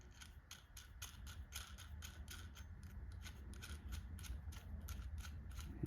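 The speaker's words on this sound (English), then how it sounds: "use a washer and this nut here to lock the whole thing together" A nut and washer are tightened on a whiskey bottle lamp, giving a close, faint, steady run of small ratcheting clicks.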